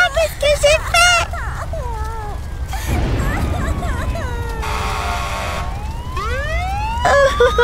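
A fire engine siren wails in rising and falling sweeps, with bursts of shrill tones and a stretch of noisy hiss between them.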